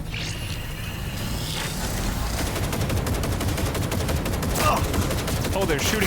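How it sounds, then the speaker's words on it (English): Rapid video game gunfire rattling in fast, steady bursts throughout, loud and dense, with faint voices now and then in the background. "Oh, they're shooting me? Stop firing!"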